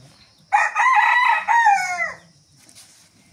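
Rooster crowing at dawn in the dark near a village home where chickens are kept, one loud close call lasting under two seconds, with faint clucking and quiet background before and after.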